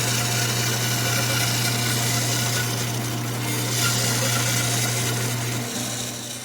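Band saw ripping a wooden board against a fence, with a steady loud whine and hum of the blade cutting continuously throughout, tapering slightly at the end.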